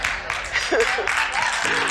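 Brief scattered applause from a seminar audience at a leadership tour event, moderately loud with some voices mixed in.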